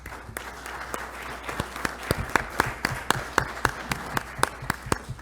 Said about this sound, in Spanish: Recibimos al arquitecto Juan Miguel Guerrero con fuertes aplausos